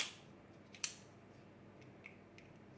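A lightweight fiber-handled folding utility knife, old stock, has its blade pressed down and folded shut, giving a single sharp click near the start followed by a few faint ticks in a quiet room.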